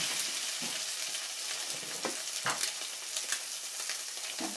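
Strawberries and peas stir-fried with egg in a pan, a steady hiss of frying with scattered scrapes and clicks of a utensil stirring, close and continuous with no talk.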